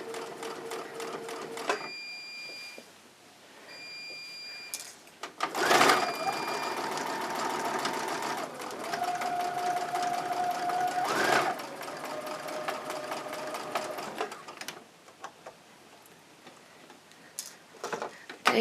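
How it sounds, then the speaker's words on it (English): A sewing machine runs in short bursts and then longer steady runs, stitching a cloth pad along its sewing line with a fast, even mechanical whir and tick, close by and with no voices. "Now I'm following the sewing line of the shape of the pad."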